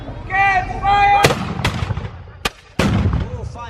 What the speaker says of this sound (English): And here's a cannon coming, so hold your lugs. Prepare to get fired!